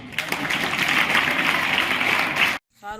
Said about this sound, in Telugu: చప్పట్లు కొట్టిందా?